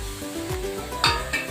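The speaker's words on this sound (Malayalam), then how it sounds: "ഈ പാത്രത്തിലേക്ക് കുറച്ച് കുരുമുളക്, 1 ടീസ്പൂൺ കുരുമുളക്, 1 ടീസ്പൂൺ പെരിഞ്ജീരകം, പിന്നെ കുറച്ച് ഗ്രാമ്പും ഒരു ചെറിയൊരു ബിരിയാണി ഇലയും കൂടി ഞാൻ വറക്കാൻ പോവാണ്" Pepper, fennel seeds, cloves and a small bay leaf dry roasting in a pan for a Madurai chicken salna, giving a soft steady sizzle with rustling stirs and two sharper scrapes near the end.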